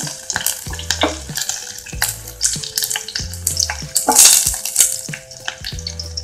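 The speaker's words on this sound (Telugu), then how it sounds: "1 స్పూన్ జీలకర్ర వేసుకుందాం. సో ఇది ఫ్రై అయ్యాక పచ్చిమిర్చి వేసుకోవాలి." Cumin seeds fry in a pan, a crackling sizzle with repeated stirring scrapes and sharp pops. A rhythmic low hum repeats under it, and nobody speaks.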